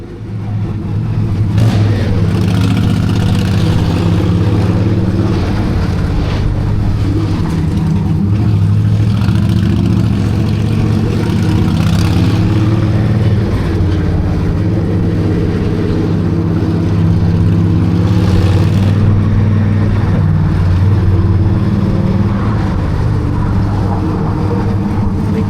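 Engines of cars in Upper East Side New York City rush-hour traffic hum and rumble steadily, with occasional surges of acceleration over a dense, continuous drone heard from inside a vehicle, no talking.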